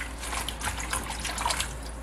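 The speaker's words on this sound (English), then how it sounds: "I'm gonna rinse my kale." Tap water runs into a kitchen sink while kale is rinsed, a steady close trickle and splatter lasting the whole moment with no voices.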